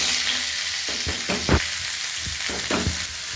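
Vegetables sizzle in leftover hot oil in a pan, a steady close frying hiss broken by several soft knocks of stirring.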